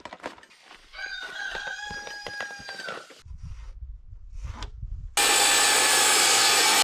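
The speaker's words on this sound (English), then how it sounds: "The first step, we got to measure the length of the wood here, and then we got to cut the wood to that length." Rough rasping and rubbing of wood being worked to length for a tractor shed, with a tonal rooster-like crow partway through. A sudden burst of loud broadband noise ends it.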